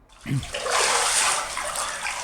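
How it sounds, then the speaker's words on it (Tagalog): Water splashes and pours continuously during a bathing scene in the Filipino-made video game Taguan, a loud, broad rushing wash that swells and then levels off with no talk over it. "Hinayang sablig yung tubig na to mahal."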